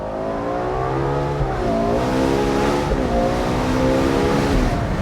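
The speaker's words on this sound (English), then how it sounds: "the Ferrari V12 has a very different sound and experience of power delivery" A Ferrari 812 GTS V12 engine winds up through the gears with a smooth, rising wail, loud and close, each shift briefly dropping the pitch before it climbs again.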